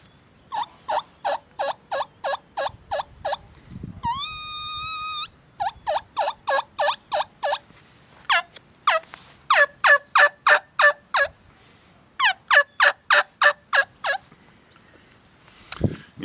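Series of wild turkey hen yelps, not loud or raspy, in quick runs of several notes separated by short pauses, fairly clear and close with quiet surroundings.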